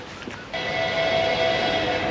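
Train at a railway station in Rivne, Ukraine, a steady loud hum and a sustained whistle-like tone starting abruptly and holding to the end, close by.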